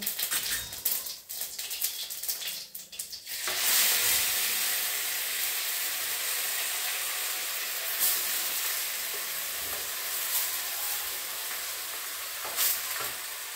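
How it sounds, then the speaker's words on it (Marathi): Cumin seeds hit hot ghee in a kadhai and burst into a loud, steady sizzle after a few seconds of fainter crackling, then hiss on evenly, with a couple of brief louder spatters. "कढई गरम कर ठेवली आहे, त्यात तूप घातलेलं आहे।"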